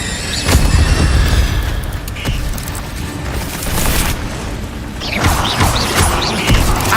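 Incendio fire spells cast in Hogwarts Legacy burst out as several loud whooshing blasts with booming impacts, spaced a second or two apart amid game sounds.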